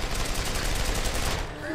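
Heavy gun firing in the video game Deus Ex: Human Revolution, a dense, continuous burst of loud automatic fire that runs for about a second and a half before cutting off.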